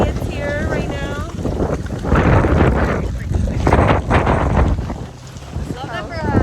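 Strong wind buffets the microphone in loud roaring gusts that rise and fall, with a voice speaking at moments over the rumble.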